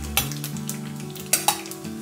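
Chopped ginger hits hot sesame or coconut oil with mustard seeds, giving a steady close sizzle with a couple of sharp crackling pops and faint stirring.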